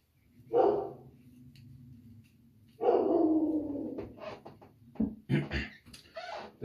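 Dogs bark off in the distance, two long barks followed by a cluster of shorter, sharper yaps and whines.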